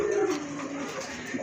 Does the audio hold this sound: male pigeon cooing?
yes